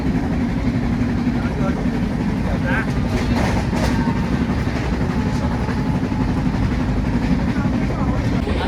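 Loud, constant rumble and rattle inside the moving Janshatabdi Express from Panvel to Ratnagiri on the Konkan Railway, steady throughout with a hint of background voices.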